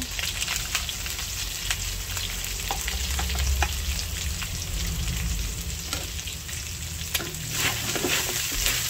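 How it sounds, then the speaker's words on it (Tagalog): Garlic and onion sautéing in a pan for ginisang monggo, a steady close sizzle with occasional stirring clicks and scrapes, no talking. "Akin na po ilalagay itong bawang at sibuyas."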